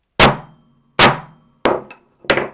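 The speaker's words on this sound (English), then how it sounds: "smack the table with the hammer" A hammer smacks a table on a workbench while a spear is being built: four loud, sharp wooden whacks, close by and evenly spaced, each with a short ringing decay.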